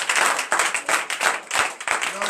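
A congregation at a night deliverance service clapping and acclaiming Jesus, rhythmic rounds of synchronized claps pulsing about twice a second, with voices mixed in among the beats.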